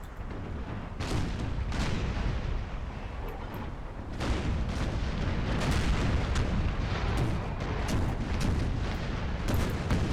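Naval cannon fire in Empire: Total War, a dense, continuous roar of booming broadsides and rumbling blasts from sailing warships, loud and sustained with overlapping bursts and no talk.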